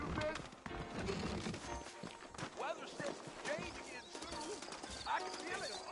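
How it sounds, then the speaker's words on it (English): Saddled horses in a frontier-style video game clip-clop steadily and let out whinnies, with people talking over the hoofbeats and background sounds throughout. "I got the horses saddled up and ready out front."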